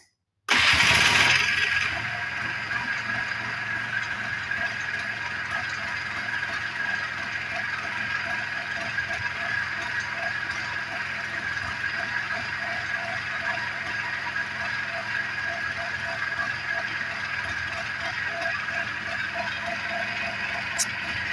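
A 1994 Polaris 250 Trail Boss ATV engine catches after a brief crank and settles into a steady, loud, close idle running on alone.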